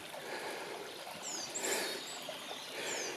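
A small forest stream flows steadily and softly at a distance, a faint continuous wash with a couple of brief high bird-like chirps on top.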